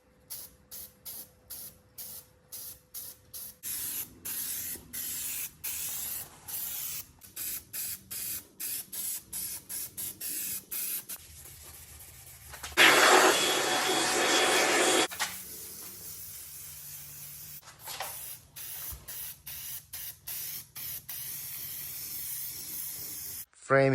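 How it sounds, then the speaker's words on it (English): Bursts of spray paint hissing on and off in short repeated pulses on the frame of a 2017 Ram mega cab truck, with one long continuous spray in the middle, close and fairly loud. "I'll kind of hold it like that and spray the paint"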